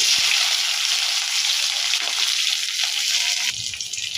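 Chopped onion hitting hot oil with minced garlic in a pan for Chinese-style fried rice, a steady dense sizzle throughout that settles slightly quieter near the end, no voices.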